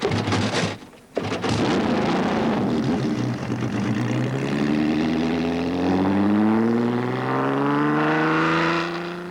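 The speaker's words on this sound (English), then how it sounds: "Ferrari make a 6 sound like a 12" A vintage front-engined Ferrari V6 grand prix racing car revs close by, its loud, rasping engine note climbing steadily in pitch after a brief dip at the start.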